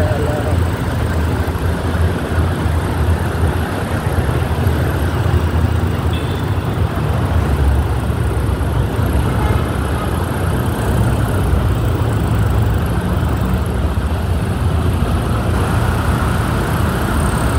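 Road traffic in Santa Mesa, Manila: a steady, dense wash of car and bus engines idling and rolling nearby, continuous and fairly loud throughout, with people talking over it at times.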